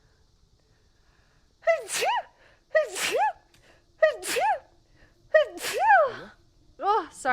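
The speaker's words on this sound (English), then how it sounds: "I just sneezed a million times." A woman sneezes five times in a rapid series, each sharp burst with a quick intake before it, close and loud, with brief talk between them.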